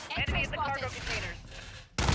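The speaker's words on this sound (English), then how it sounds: "I'm taking fire! They're on me!" Gunfire in Call of Duty Modern Warfare, rapid bursts mixed with shouted voice radio chatter, ending in a loud sharp blast of shots at the close.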